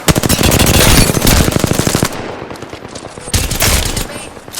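Rapid automatic gunfire in the Apex Legends video game, a dense burst of close, loud shots for about two seconds, a short lull, then another quicker volley.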